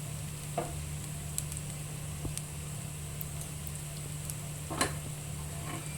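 A steady, quiet sizzle of turmeric, cumin and Kashmiri chili powder frying in hot oil for a potato and pointed gourd curry, with a few soft clicks from stirring over a low hum.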